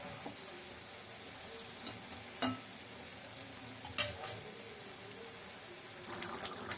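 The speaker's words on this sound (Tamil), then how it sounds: "அந்த மசாலாலேயே அது நல்லா வதங்கணும்." Soft, steady sizzle of mutton liver sautéing in a Chettinad-style masala gravy in a pan, with two brief clinks of a utensil against the vessel, quiet and continuous.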